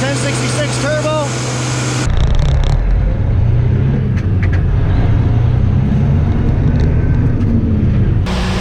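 An International 1066 Turbo tractor engine runs with a steady low rumble that rises in loudness after the first two seconds and holds, with a voice talking over it at the start.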